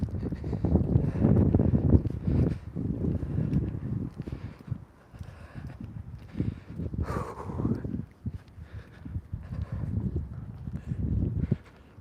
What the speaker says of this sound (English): Okay, wind.